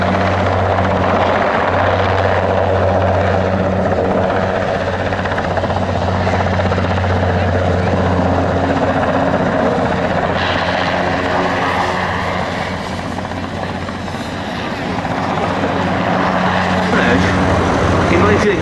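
A Westland Wessex rescue helicopter at Duxford runs with a loud, steady rotor and turbine drone, close and continuous, with a slight dip in level partway through.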